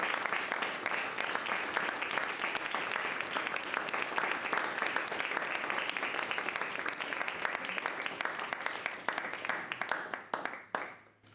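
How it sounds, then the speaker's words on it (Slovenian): Long, dense applause from a concert audience, steady and sustained for about ten seconds before thinning out and fading at the end. "Hvala za dolg aplavz"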